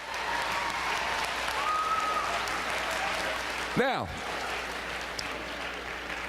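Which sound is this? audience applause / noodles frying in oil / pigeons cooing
audience applause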